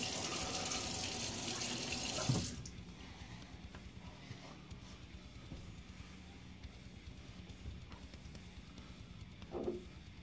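A bathroom tap runs into a sink for about two seconds of rinsing after a wet shave, then shuts off, leaving a quiet room with faint knocks. The water is soft and close.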